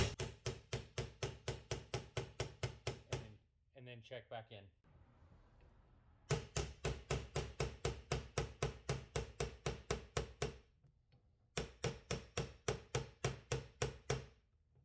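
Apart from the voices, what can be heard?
hammering a dent out of a golf wedge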